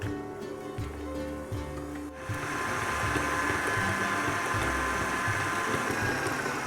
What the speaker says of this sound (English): I've got 150 grams of butter, which is unsalted and softened, in my mixer, and I'm going to beat that for about 5 minutes